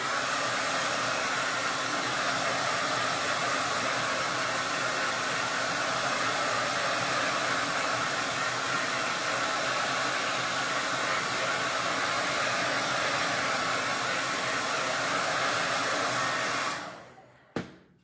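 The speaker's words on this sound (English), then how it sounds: "let me hit it with the blow dryer again" A blow dryer roars steadily at close range for a long stretch, then cuts off abruptly near the end with a brief click.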